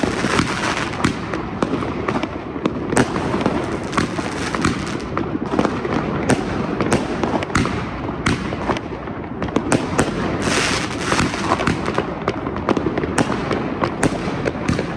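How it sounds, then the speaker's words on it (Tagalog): Dense, continuous crackle of fireworks and firecrackers popping in rapid overlapping bursts, loud and close, with occasional sharper bangs throughout. "Grabe, ang dami nilang paputok ka!"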